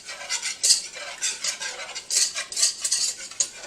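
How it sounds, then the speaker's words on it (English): A whisk stirs oil into flour for a roux in a pot, rapid rhythmic scraping and clicking of wire against metal in quick bursts, close and fairly loud with no talk. "I like to use a whisk because the whisk keeps the oil in the flour moving so it doesn't lump up"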